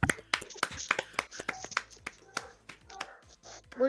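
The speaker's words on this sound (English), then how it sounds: "Clap." Scattered hand claps at an online presentation, sharp irregular slaps from a few people at close range, mixed with brief cheering voices.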